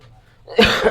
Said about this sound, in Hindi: खांसी आ रहा है बेटा